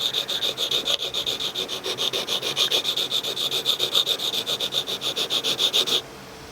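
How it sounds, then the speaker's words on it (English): A V tool carving chisel is rubbed back and forth on a sharpening stone in quick, even, gritty strokes, close and rhythmic for about six seconds before stopping. "Start on that angle that you were doing over here and slowly rotate the chisel."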